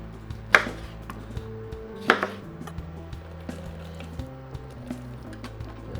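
A knife cuts through lemons on a board, with two sharp, distinct chops standing out over a low background of faint music and light kitchen clatter.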